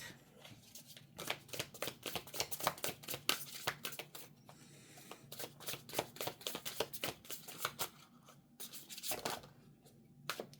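Tarot cards being shuffled up close, a run of quick papery riffles and flicks coming in bursts with short pauses, and no talking.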